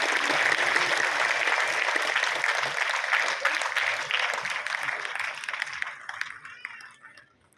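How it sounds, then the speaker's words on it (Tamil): Loud, sustained applause from an audience greets award winners at a ceremony, dense clapping that fades and thins toward the end. "பலத்த கரவொலிகளை வழங்குங்கள் விருதாளர்களுக்கு."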